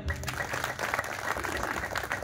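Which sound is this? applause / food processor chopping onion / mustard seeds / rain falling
applause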